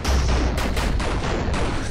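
Rapid gunfire in the Murder Miners video game, a fast string of close, loud shots repeating evenly in a sustained burst, with no voices.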